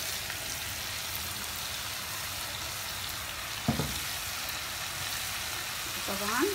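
Mild, non-hot peppers frying in a little oil for Alexandrian-style liver: a steady, close sizzle and crackle throughout, with a brief clatter near the middle and a faint rising tone at the end.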